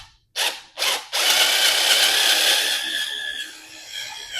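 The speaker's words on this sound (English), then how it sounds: "Now I'll do the same process where I pre-drill it." A power drill pre-drills a pilot hole through a fireplace board raised off the floor: two short bursts, then one sustained, loud whirring bore of a few seconds that tapers slightly.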